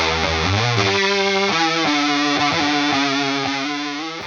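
A ZIG-ZAG analog chorus-vibrato pedal shimmers over a distorted electric guitar, with a few struck chords ringing out in a thick, wavering, steady wash that fades slightly at the end.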